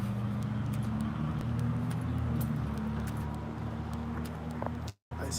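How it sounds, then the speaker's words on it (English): A car passes on a street, its engine hum carrying steadily at moderate distance under a low background drone. A sudden brief dropout comes near the end. "I see a car turning right now."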